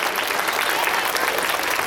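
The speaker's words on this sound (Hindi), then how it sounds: "आप लोग जोरदार तालियां बजाकर चेयरमैन साहब का स्वागत करें" An audience at an Indian Public School program claps vigorously to welcome the chairman, a thick, continuous wash of applause with voices mixed in beneath it.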